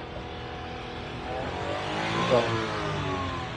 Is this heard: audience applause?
no